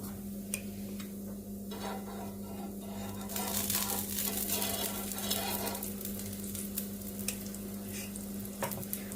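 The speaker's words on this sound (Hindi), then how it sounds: "अब हम इसकी साइडों में घी डाल देंगे।" Ghee sizzles and crackles softly around a sweet millet and jaggery roti in a hot pan, a steady low frying hiss with scattered ticks and pops. The sizzle swells louder partway through, over a constant low hum.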